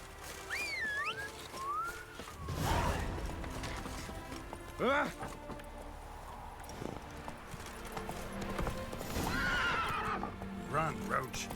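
Roach the horse neighs and whinnies in The Witcher 3 over steady clip-clop hooves, with a brief whistle, a few whinnies spread across the stretch, and someone talking over the game sounds.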